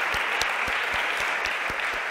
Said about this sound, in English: So I would like to give an applause for all the panelists.